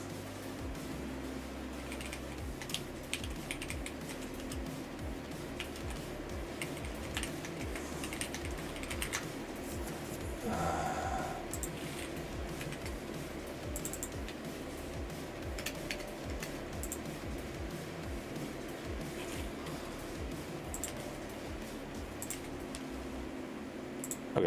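Continuous typing on a computer keyboard, a steady patter of close, fairly quiet key clicks running throughout with no talking.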